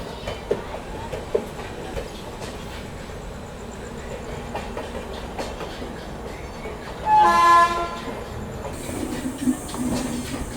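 The 22361 Patna Amrit Bharat Express runs through heavy rain with a steady rolling rumble and hiss of wheels. A loud, sustained train horn blasts midway, followed by a brighter high-pitched whine.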